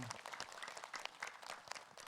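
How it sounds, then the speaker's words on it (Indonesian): Audience at an Islamic religious gathering clapping to welcome a preacher to the stage, faint scattered handclaps from a small crowd, sounding distant and quiet. "Tepuk tangan buat Ustadz Ahmad Khan."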